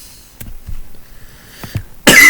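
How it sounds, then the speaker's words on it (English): A few soft, close coughs sound alone in a quiet room, short and spaced out, followed by a sharp loud burst at the end. "Yeah, I still have a cough,"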